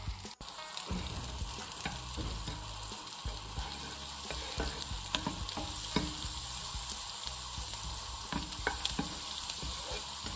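Sliced garlic, dill leaves and vegetables sautéing in butter in a pan, giving a steady close sizzle with scattered crackles and occasional scrapes of stirring, with no talk.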